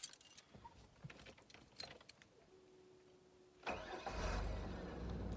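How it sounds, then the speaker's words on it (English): A car engine cranks over several seconds with faint clicks and key jingles beforehand, then catches and settles into a steady low idle, heard close in a quiet outdoor setting during a mule deer hunt. "The car started."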